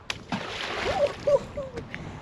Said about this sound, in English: Let me skim this one.